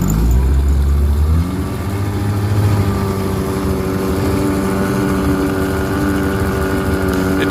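A 1960 Evinrude 10hp outboard motor runs in reverse, its engine note stepping down early and then settling into a steady, loud putter with rough harmonic drone.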